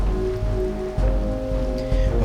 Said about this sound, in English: you can see like the raindrops landing on Raziel's head